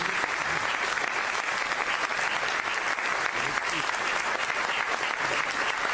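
Steady, dense audience applause at a book presentation and theatre evening for the playwright Jorge Arroyo Pérez, many hands clapping evenly for six seconds from a moderate distance with no break.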